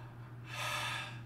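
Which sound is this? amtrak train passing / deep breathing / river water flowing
deep breathing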